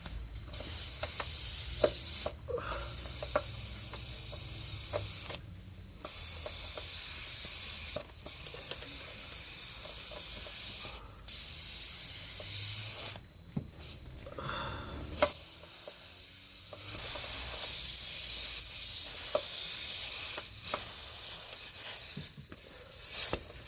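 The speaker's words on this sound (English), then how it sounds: "at least now I'm kind of like getting this air coming out slowly" Air escapes from the rear air suspension airbag of a Mercedes GL450 X164 as a long, steady hiss close by, broken by several brief pauses and small mechanical clicks.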